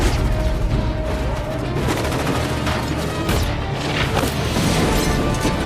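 Heavily armed criminals in a film open fire, with loud bursts of gunfire, rapid volleys and sharp cracks crowding one another without pause, and several harder impacts standing out through the barrage.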